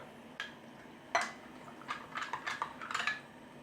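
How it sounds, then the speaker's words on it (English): Quiet clinking and scraping of a spoon stirring ghee and milk in a pot, a few irregular taps and rattles against the metal, close but soft. "Give this all a stir."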